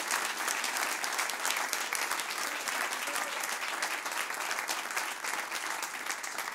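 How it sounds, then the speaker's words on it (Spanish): A church congregation claps steadily and enthusiastically, dense applause filling the room without a break for several seconds. "Denle un buen aplauso"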